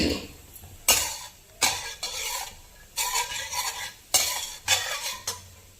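Cumin, fennel and a cardamom pod sizzle in hot ghee for a matar paneer gravy. Repeated loud scraping stirs of a spoon against the pan come in regular bursts over a steady frying hiss.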